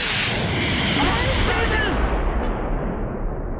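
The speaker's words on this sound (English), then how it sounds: "lines up a shot at the Panzer IV." A tank gun shot hitting a Panzer IV in the World War II strategy game Close Combat 4, a loud burst and heavy booming impact that decays into a rumbling tail.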